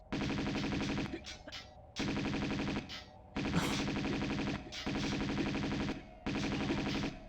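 Sustained bursts of Uzi fire from Tomb Raider 2, loud and close, in long rattling volleys broken by brief pauses, with no talking.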